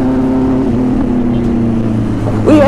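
Powerful BMW S1000RR sport motorcycle engine droning steadily up close while riding, with a rising rev near the end.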